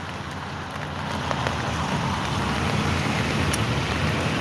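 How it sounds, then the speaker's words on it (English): Steady patter of rain falling on flowers outdoors, a continuous soft broadband hiss with faint scattered drop ticks and a low rumble underneath, no voices. "It's nice to watch some drops of water, drops of rain on flowers."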